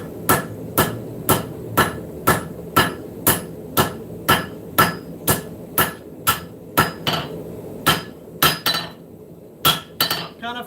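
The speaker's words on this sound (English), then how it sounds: "Kind of forging into this at an angle. That's hanging off the anvil where that little step down is." Steady, evenly spaced hammer blows ring out on an anvil while forging knife bevels at an angle over the anvil's step, about twenty sharp metallic strikes with a few quicker, lighter taps near the end, close and loud.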